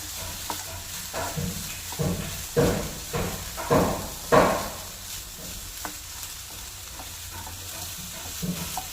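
Chicken pasta ingredients sauté in a pan with a steady low sizzle, while a spoon stirs in a series of distinct scraping strokes near the middle.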